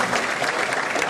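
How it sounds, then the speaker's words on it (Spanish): Audience applause at a tenth-anniversary celebration in Santiago, Nuevo León: a dense, steady patter of many hands clapping, fairly close and sustained for the whole moment without a break. "Para los dos, un aplauso"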